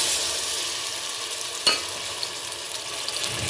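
Paste frying in hot ghee, a steady bright sizzle close up with one sharp clink partway through, no talking.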